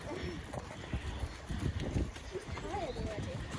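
Horse hooves cantering at a show jumping event, a rhythmic run of dull thuds under a person talking close by, with wind and ambient noise.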